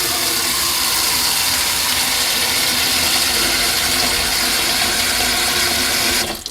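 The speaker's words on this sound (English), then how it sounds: "Alright, pour some water in." Water pours steadily and loudly into a small plastic airtight pantry storage container, a continuous rushing splash that stops abruptly at the end.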